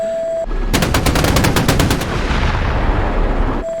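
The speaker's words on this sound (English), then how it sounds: "Oh my god, the guns are coming past us." Loud rapid machine-gun fire in a DCS combat flight simulation set in the 1982 Falklands War: a fast burst of about a dozen shots over a rumbling background, then continuous roaring noise.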